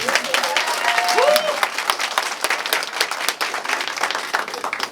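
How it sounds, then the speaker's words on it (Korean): Members at a New Future Party provincial founding convention in Gyeongbuk applaud, a dense, loud burst of many hands clapping that runs steadily for several seconds with a faint voice briefly audible beneath. "우리 남편한테 박수 좀 주세요."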